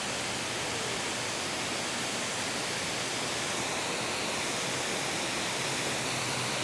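Steady, loud rushing roar of falling water, broadband and unbroken throughout, like standing close to a waterfall in Muscle Shoals, Alabama.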